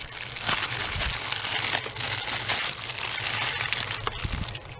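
Gift packaging holding a custom tumbler and goodies crinkles and crackles loudly up close as it is opened, a continuous run of rustling, crumpling plastic and paper with no talk.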